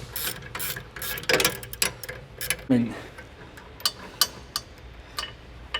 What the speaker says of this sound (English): Now with our 15 and 16mm wrench, we can retighten the upper sway bar end link.